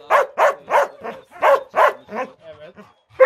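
A Belgian Shepherd dog barks repeatedly in quick bursts, fairly close and loud, with a short pause before one last bark.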